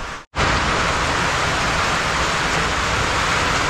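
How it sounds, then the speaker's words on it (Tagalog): Heavy rain pours down steadily in a dark outdoor farm setting with vegetable plots, a loud continuous broadband hiss that drops out for a moment near the start, then resumes unbroken. "habang pinapatila natin yung ulan"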